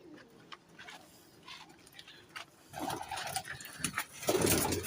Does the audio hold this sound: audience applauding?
no